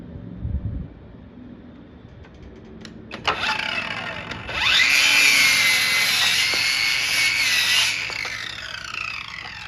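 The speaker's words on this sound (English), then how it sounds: "I'm just going to cut them to length with the circular saw" A circular saw cuts wood boards to length. The motor spins up, then a loud, close, sustained whining cut runs for several seconds before winding down.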